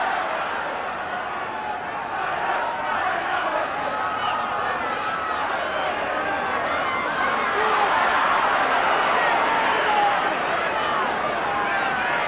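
A large crowd of about 30,000 at a snowy 1985 John Player Trophy rugby league final between Hull and Hull Kingston Rovers, heard as a steady, distant stadium hubbub throughout, with no clear peaks.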